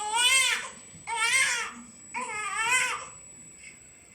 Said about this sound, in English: A baby crying.